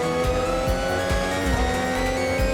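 A Brabham BT46B Formula 1 car in a racing video game drones loudly at high revs, its engine pitch sweeping up and down with repeated gear changes through the run.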